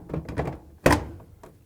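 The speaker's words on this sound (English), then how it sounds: "Now it's time to hang the door on. These 2 hooks goes into these 2 slots." A Whirlpool dryer door dropped onto its two hinge hooks and slots, a sharp metallic clunk after some light handling rattles, close and alone.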